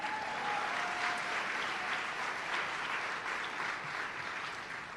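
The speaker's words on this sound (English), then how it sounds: "You can clap for that." An audience claps at a Smart Girls, Strong Women evening event at the Lincoln Street Club, steady rapid applause that holds strong, then thins slightly near the end.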